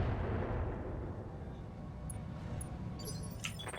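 Indirect artillery fire lands on turrets in the mech game Roguetech: a heavy, rumbling blast rolls and slowly fades. A few light metallic clicks and ticks follow near the end.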